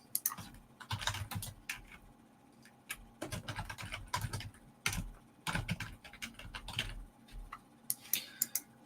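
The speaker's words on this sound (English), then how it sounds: "I'll type the whole thing again." Someone types on a computer keyboard nearby, producing rapid bursts of clicking keystrokes with short pauses between flurries, clear and fairly quiet with no voices.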